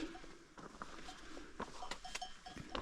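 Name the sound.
sheep cowbells clanging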